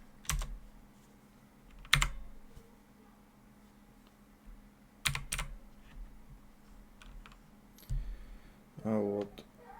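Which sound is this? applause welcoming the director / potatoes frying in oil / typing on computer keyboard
typing on computer keyboard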